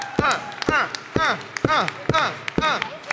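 Rhythmic claps arrive in regular sharp bursts roughly every half second from the audience at a Power Rangers Time Force convention panel, loud and close, under a voice speaking.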